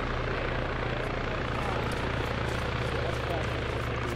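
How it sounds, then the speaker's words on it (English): A helicopter taking off in the video game Arma drones loudly with a steady rotor thump and whining turbine, continuous throughout, close by. "That helicopter just took off is Casper."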